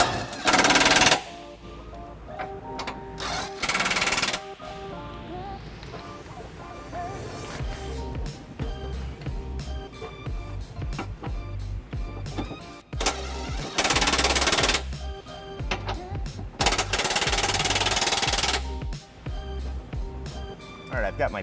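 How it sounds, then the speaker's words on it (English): Impact wrench snugging trailer hitch bolts on a Dodge Durango: several loud, rattling bursts of a second or two each, spaced apart, with someone talking in between. "And then we're going to snug them up with the impact prior to giving them a final torquing"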